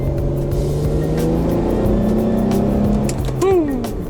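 An Infiniti G35 coupe in manual mode shifting down to second: a close engine hum that shifts pitch, then a sharp rev blip near the end, heard from inside the car.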